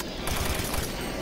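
Assault rifle fire in Doom 3, a rapid burst of several loud close shots in quick succession over a dense game background.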